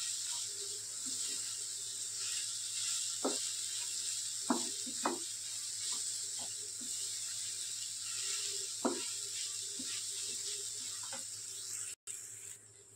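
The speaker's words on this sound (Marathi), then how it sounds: "गवार परतून घेतली." A ground paste of cluster beans, peanuts and green chillies sizzles steadily in a pan, a soft continuous frying hiss with scattered faint clicks and scrapes from stirring.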